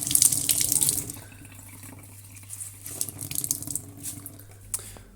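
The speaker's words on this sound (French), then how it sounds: "j'ai de l'eau qui coule là derrière. Et ça me remplit mon bol." Water leaking from the back of a Saeco Incanto coffee machine and running into a bowl, a close splashing trickle that is loudest at first, then fades into lighter patters and drips.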